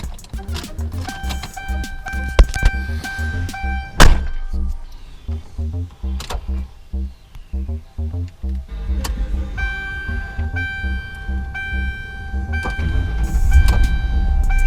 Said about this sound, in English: we'll go ahead and fire this bad boy up so you guys can hear it and know that it works.